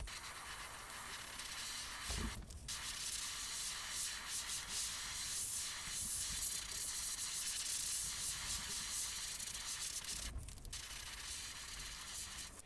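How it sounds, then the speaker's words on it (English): An airbrush or spray gun lays a white sealer coat onto fishing rod handles for a musky or swimbait rod, giving a steady, close hiss that runs almost the whole time with two brief pauses. "now we're gonna lay down our sealer"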